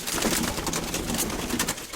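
An old pigeon coos in a dovecote, a soft continuous murmur of cooing close by, with no voices.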